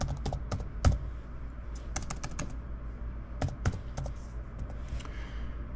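Quick bursts of computer keyboard typing at close range, an irregular clatter of individual keystrokes with a few short pauses, heard alone with no talking.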